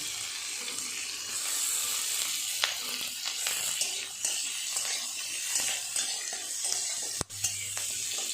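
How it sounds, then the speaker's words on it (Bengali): Onion, capsicum, tomato and slit green chillies fry in a pan for a soya chilli dish, giving a steady close sizzle broken by the scrape and clack of stirring, with no talk. "এগুলো হালকা করে একটু ভাজা করে নেব।"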